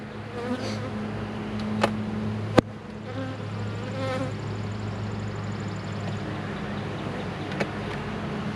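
Honey bees hum steadily and fill the air around an open hive during a late March inspection, a dense, continuous drone with occasional faint clicks of frames and no talking.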